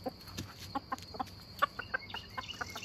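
Chickens clucking and a rooster making short calls close by, a scattered series of brief clucks and squawks over faint background noise, with a turkey nearby.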